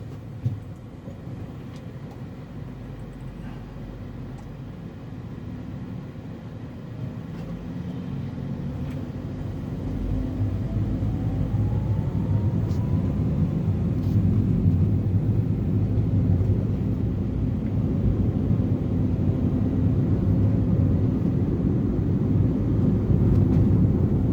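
A Mazda 2 with an overhauled gearbox, previously prone to jerky forward gears, drives in first gear after a downshift, its steady engine and road rumble building gradually and staying loud throughout.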